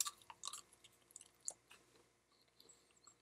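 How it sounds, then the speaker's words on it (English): Wet, smacking gum chewing, a flavored homemade blend of banana and onion, sounds close and quiet with irregular crunchy bites and squishes, heaviest at first and then tapering off, with no talking. "I think we should celebrate by chewing some of my new gum."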